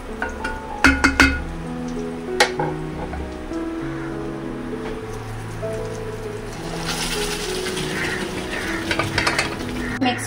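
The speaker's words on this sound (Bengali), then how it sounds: "এখন ডালটা আমি কড়াইতে দিয়ে দেব" Pre-boiled dal tipped into a hot kadai and stirred: a few sharp utensil clinks at first, then a steady sizzle and scraping stir that grows louder near the end, with no talking.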